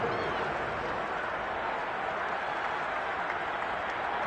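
A football stadium crowd roars in a dense, continuous wash of cheering and clapping ahead of a big third down, steady and broad, with no single voice standing out.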